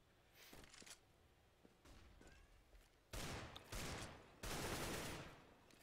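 Gunfire from a Counter-Strike: Global Offensive tournament match comes in several rapid bursts separated by short quiet gaps, the later volleys louder and more sustained than the faint early shots.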